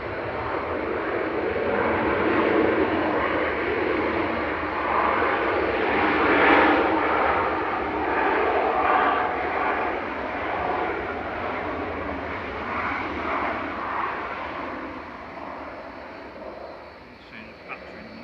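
A 30-year-old Jet2 airliner taxiing out at Manchester Airport, bound for Ibiza: a steady, broad jet engine roar that swells and eases slightly, continuous and moderately distant, with no one speaking over it.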